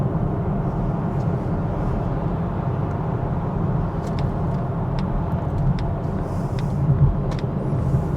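A Polestar 2 electric car pulls away with a steady, broad rumble of road and drivetrain noise from inside the cabin. The sound stays even and fairly loud, with faint high ticks and no voices.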